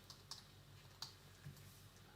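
A cat walks across a computer keyboard, pressing a few scattered keys that give faint, sparse clicks at close range in a quiet room.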